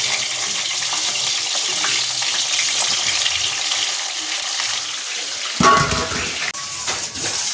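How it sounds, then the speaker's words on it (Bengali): Eggplant slices fry in hot oil alongside a fish curry, a loud steady sizzle that runs for several seconds before a sharper clatter and a shift in the crackle near the end. "এবার বেগুনগুলো ভেজে নিই"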